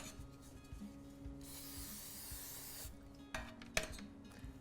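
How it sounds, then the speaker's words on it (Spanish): Cooking oil spray misted onto the base of chocolate hazelnut cake pans, one quiet hissing burst of about a second and a half, followed by faint rubbing and small knocks. "le vamos a colocar entonces aceite en aerosol en la base o desmoldante"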